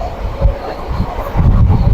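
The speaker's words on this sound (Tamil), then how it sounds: "இப்போ தாங்க ரயில் வருங்க" A train approaching across a bridge on a mountain railway: a steady low rumble that swells louder toward the end, with wind noise over it and no voices.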